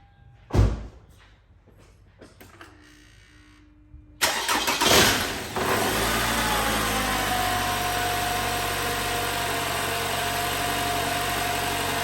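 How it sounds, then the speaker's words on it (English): A 2011 Toyota Camry with a newly replaced alternator: a thud and some clicks, then the starter cranks and the engine catches. It settles into a steady, close idle hum. "Let's start the car and see if the problem is fixed."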